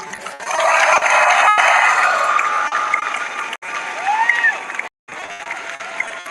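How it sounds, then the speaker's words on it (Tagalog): A standing crowd at a Bicol relief event claps for Speaker Martin, a loud, sustained wash of applause that briefly cuts out and resumes, with faint whistles and voices mixed in. "Dahil tumayo kayo, dahil na nakasang palakpak nyo"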